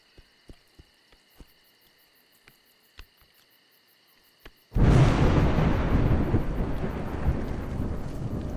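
Thunder in the video game A Juggler's Tale: after quiet ticking and insect-like chirps, a sudden loud crack bursts into a long rolling rumble with rain that fills the rest of the scene, close and heavy.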